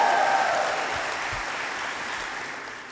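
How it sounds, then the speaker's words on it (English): Applause from soon-to-be graduates at an art and design college commencement ceremony in Atlanta, a steady wash of clapping from a large crowd that fades slowly over three seconds, with no talk. "Give yourselves a round of applause."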